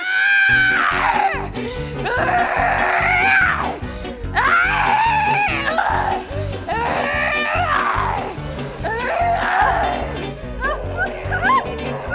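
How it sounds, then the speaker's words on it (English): Loud screams and moans from an abandoned warehouse come in repeated anguished wailing bursts that rise and fall, close and intense, with rumbling noise underneath. "loud screams and moans were heard coming from the abandoned warehouse on Bentham Road"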